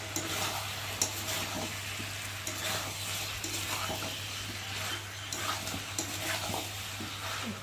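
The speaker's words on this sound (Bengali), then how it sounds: "আলু আর টমেটো দিলাম, দিয়ে ভালো করে আর একটু কষিয়ে নেবো।" Meat with potatoes and tomatoes stir-frying in a pan, a steady close sizzle with scattered scraping stir clicks throughout and a low steady hum underneath, no voices.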